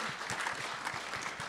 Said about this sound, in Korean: 동의하시면 박수 주십시오